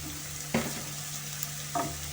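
Onion and garlic sizzling softly in a pan, a faint continuous fry under a low hum, with two brief scraping stirs about a second apart.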